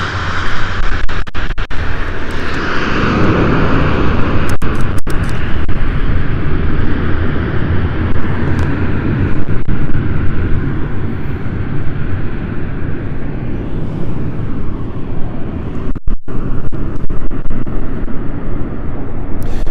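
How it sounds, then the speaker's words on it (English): A Luxair Dash 8 turboprop from Luxembourg at London City Airport gives a loud, steady engine roar that holds for about twenty seconds, broadband and close, with a slight swell early on and no talking. "Big regular here at London City, the Dash 8."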